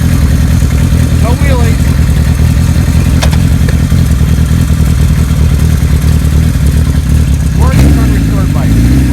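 A 1975 Kawasaki Z1 900 motorcycle, unrestored with its original airbox, rumbles steadily and loudly throughout as it is ridden, engine note dominating while voices speak briefly over it.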